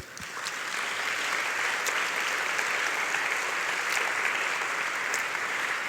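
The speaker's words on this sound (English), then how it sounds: "Let's give them a round of applause." An audience at an NLP research conference's closing and best paper awards session applauds area chairs and reviewers, a broad, sustained clapping that swells in quickly and stays even, sounding somewhat distant in a large hall.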